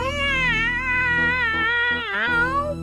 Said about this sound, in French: Mimounet et Pouillot miaulent d'abord doucement